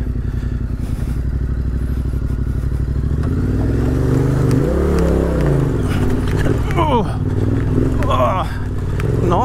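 A motorcycle ridden through the Lockyer Valley, its engine rumbling steadily up close with rising and falling revs as the clutch is modulated, plus some clatter.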